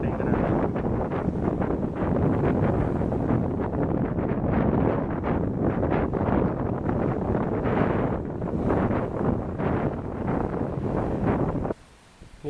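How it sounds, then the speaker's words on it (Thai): Strong wind driving rain during Typhoon Molave on Phu Quoc, Vietnam: a loud, continuous roar buffets the microphone without letup and drops away abruptly just before the end. "คือความแรงของลมนะครับที่"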